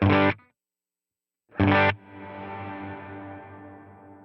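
Two short electric guitar chords cut off abruptly, then a sustained chord swells in gradually through delay and a dynamic bloom reverb, ringing out with a wide, ambient reverb tail.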